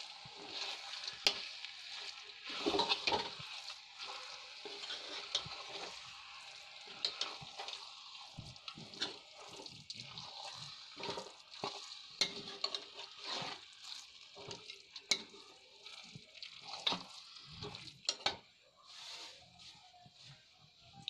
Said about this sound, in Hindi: अब इन सबको अच्छे से मिक्स कर लेंगे।